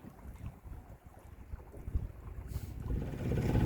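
Low rumbling sailboat engine running steadily on a river, growing louder toward the end, with wind noise and water wash around it.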